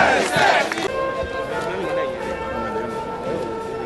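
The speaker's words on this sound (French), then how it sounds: "ovation de la population" A large crowd outside a ceremony handing over a Prime Minister's office cheers and shouts in ovation, a loud burst of voices at first settling into sustained crowd noise, with a few thuds.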